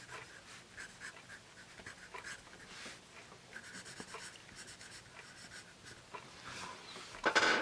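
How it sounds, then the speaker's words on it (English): Graphite from a soft, dark Blackwing Volumes 4 pencil scratching across paper in quick strokes, quiet and close, with faint breathing and a brief sharper rustle near the end. "this is a quiet, dark, soft pencil"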